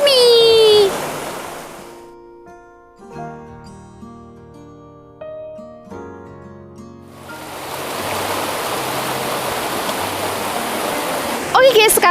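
A river flowing near the Bedengan campsite in Malang, its steady broadband rush loud at the start, dropping away behind a quieter tonal passage mid-clip, then returning as a dense continuous roar.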